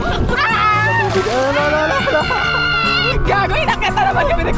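Cold seawater splashes over passengers on a boat off Boracay, sloshing bursts under constant loud excited voices, shouting and laughter throughout.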